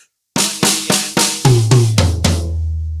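A drum fill on a kit: four quick, evenly spaced snare strikes, then two deeper rack tom hits and two booming floor tom hits, each tom note ringing out, played alone with no talking.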